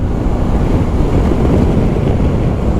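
A constant, heavy roar of wind buffeting the microphone while riding a BMW 1250 GS motorcycle, loud and unbroken throughout with no voices.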